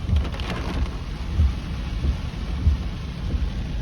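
Hard rain pours steadily during a thunderstorm, a dense continuous hiss with low rumbling thunder pulses throughout, loud and close, no voices.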